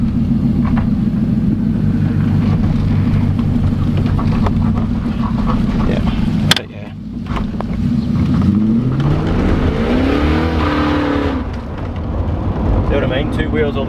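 A car with a spooled differential drives and turns, its engine rumbling loudly and steadily up close, with a sharp break midway before the revs swoop down and climb again.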